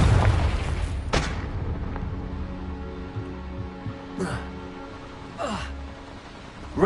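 Confringo fire spell blasting in Hogwarts Legacy: sharp bursts followed by rumbling low booms, several impacts spaced a few seconds apart over a heavy low-end bed.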